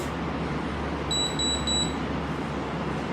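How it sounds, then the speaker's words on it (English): Three quick high-pitched electronic beeps from a galvanic spa facial device chirp in succession over a steady low background hum. "hear the few beeps, and then we're good to go."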